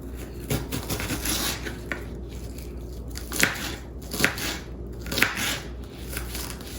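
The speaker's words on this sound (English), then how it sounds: "you just dicing the onions" Knife dicing onions on a cutting board while Cornish hens and string beans are prepared, giving irregular crisp chopping taps and scrapes, a few sharper strikes standing out over steady kitchen background noise.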